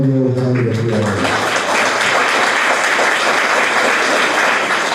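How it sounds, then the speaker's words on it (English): Audience applause at a Toastmasters district conference gala dinner, greeting the incoming leaders; a sustained, loud wash of clapping from a large crowd fills the room, with a brief voice or music tone fading out at the start. "Let's give our incoming leaders one more round of applause."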